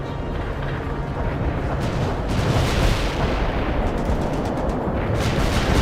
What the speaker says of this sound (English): Artillery strike completed. Hostile kills confirmed.